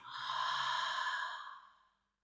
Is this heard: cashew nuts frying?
no